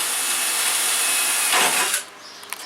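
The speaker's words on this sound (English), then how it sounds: "He's drilling these holes here" A power drill bores a hole through the wood framing of a tiny house window opening. It gives a loud, steady grinding whir for about two seconds and then cuts off, followed by a few faint knocks.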